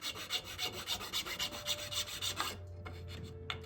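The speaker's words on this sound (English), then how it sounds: "I'm gonna really file this edge here on the inside and clean it up." A small needle file rasps against the wooden fipple edge of a handmade flute in quick, even back-and-forth strokes, close and clear, for about two and a half seconds before giving way to quieter scraping.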